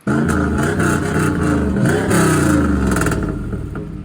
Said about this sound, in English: Why does it sound like it's just like falling apart whenever you rev it?